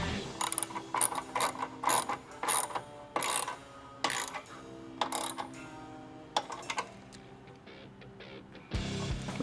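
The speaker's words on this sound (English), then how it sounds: "These are 1/2-inch wrench and socket." Half-inch ratchet wrench and socket tightening an antenna relocation bracket screw on a Harley-Davidson Touring motorcycle, quick bursts of clicking pawl ratcheting separated by short pauses, close and crisp.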